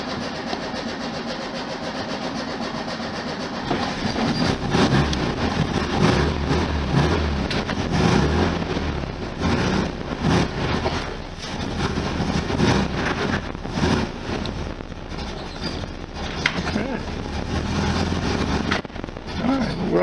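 A 1973 VW Super Beetle engine with dry fuel lines runs steadily and loudly throughout, a rough, shaking idle with irregular bursts and clatter.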